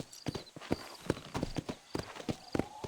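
Horse hooves clip-clop at a quick galloping rhythm in the Red Dead Redemption video game, a regular run of close, moderately loud hoofbeats.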